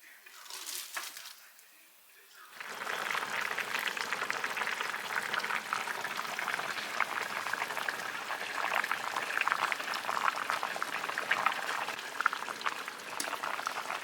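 Pots of potatoes and green beans boil on a stovetop with a steady, close bubbling hiss that starts after a brief quieter stretch, with a voice heard at the start.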